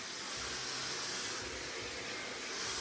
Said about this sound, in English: So making sure that I'm using a nozzle with my blow dryer.